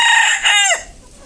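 A rooster lets out a short, loud, close call that rises and then drops off sharply, heard alone with no talking.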